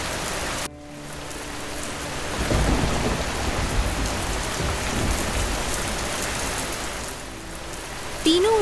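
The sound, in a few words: heavy rain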